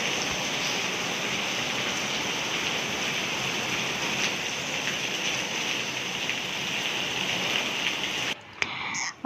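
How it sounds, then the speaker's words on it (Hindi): Steady, dense downpour of heavy rain, a loud continuous hiss that cuts off abruptly near the end. "ये अचानक ही बारिश शुरू हो गई। इतनी तेज़ बारिश के बस ना पूछें।"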